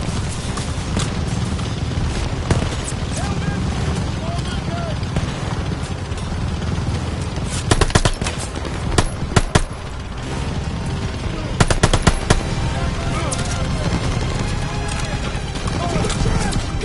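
Machine gun fire in a World War II style war game, short bursts and single shots cracking over a constant roar of battle noise and shouting voices.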